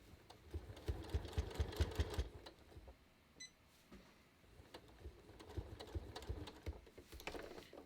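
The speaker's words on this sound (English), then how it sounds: "my needle is stopping down" A home sewing machine stitches a red fabric heart banner in quick bursts, its needle chattering steadily, pausing briefly midway before starting up again; close and moderately loud, with no talking.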